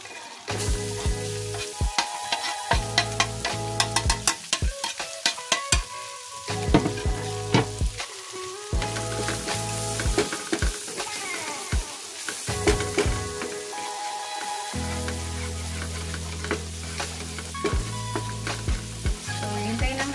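Garlic frying in a pan until browned, steady sizzling with repeated clattering stirs and scrapes, close-up, plus a low hum and some tonal background sound.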